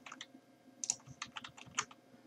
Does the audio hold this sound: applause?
no